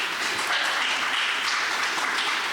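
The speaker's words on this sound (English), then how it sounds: "Let's continue that round of applause for both District 2 candidates." Audience applause at a Santa Clara County supervisor candidate forum, a steady wash of many hands clapping that keeps a fairly even level throughout without any voices.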